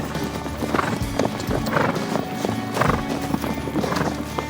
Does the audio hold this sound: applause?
no